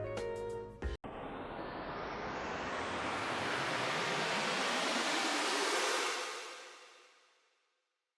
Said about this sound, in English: I then created an automation clip to have the sound rise in pitch.